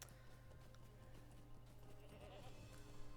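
Goats bleat faintly in Lord of the Rings Online, a few soft wavering calls rising late over a quiet ambient bed with low steady hum, no talking present.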